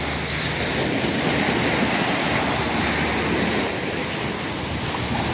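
Sea waves wash onto the beach at Pattaya, a dense, steady roar of surf close by with no pauses, and some wind across the microphone.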